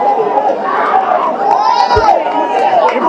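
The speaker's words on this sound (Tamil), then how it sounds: "இப்படிப்பட்ட ஆரவாரம்" Film fans packed into Kamala theatre at a promo event for the movie 'Arasan' raise a loud, close roar of shouting and cheering, with excited voices and yells overlapping throughout.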